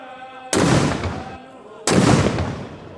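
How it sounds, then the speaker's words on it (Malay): Two heavy cannon blasts from a 17-gun salute boom about a second and a half apart at a Brunei royal wedding ceremony, each sharp report rolling into a long echoing decay. "17 das tembakan meriam dilepaskan sebagai menandakan bermulanya majlis istiadat berbedak pengantin diraja."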